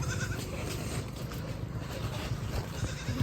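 A lamb bleats repeatedly in short, wavering cries, fairly close, over a steady background hum.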